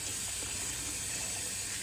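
Running tap water pours steadily into a sink as a wet-shaving razor is rinsed of hair, a continuous close hiss and splash with no talk.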